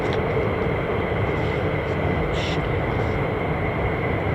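An F-15 or F-35 fighter jet on approach to the runway at RAF Lakenheath makes a loud, continuous broadband roar that holds steady without a break.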